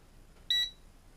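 A single short, high-pitched electronic beep from a toy drone as it binds to its controller, close and clear, in an otherwise quiet room.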